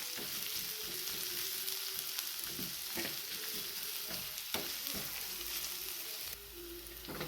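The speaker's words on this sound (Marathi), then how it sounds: "हा कांदा कट करून घेतलेला हा आपल्याला छान असा भाजून घ्यायचं आहे" Chopped onion frying in a pan, a continuous hiss of sizzling oil with repeated spatula stirring scrapes and clinks throughout, close and moderately loud, with a short dip near the end.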